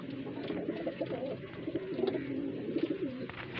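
Highflyer pigeons kept in Bareilly coo steadily and close by, a continuous low, throaty warble rolling on without pause and with no talking over it.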